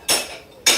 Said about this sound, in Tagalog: Kinagabihan habang naghuhugas ako ng pinggan